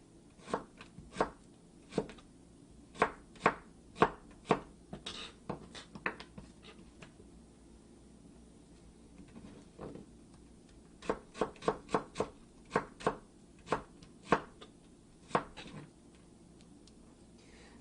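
A knife julienne-cutting vegetables on a cutting board: crisp, close taps in quick bursts of several strokes, separated by short pauses, fairly quiet with no voices.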